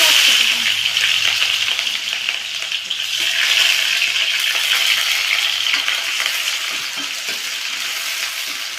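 Onions fry in hot oil with cumin seeds already toasted in it, giving a loud, continuous crackling sizzle with occasional stirring scrapes, close to the pan.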